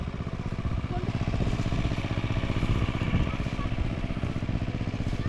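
A power tiller engine runs steadily close by in a wet field, a continuous loud mechanical chug with rhythmic clattering throughout, children's voices faintly mixed in.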